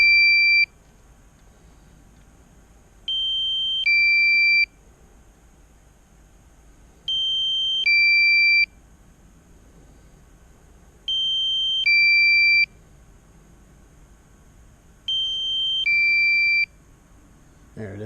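A drone remote controller sounds its low-battery warning: a loud two-tone electronic beep pattern repeating about every four seconds, five bursts in all, over quiet background.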